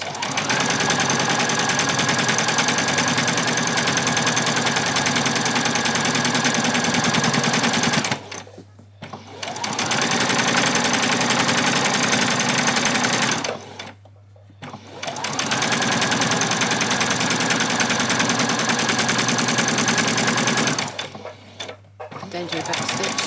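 A sewing machine back-stitches an apron's French seam in three long steady runs of fast needle chatter, each separated by a brief pause.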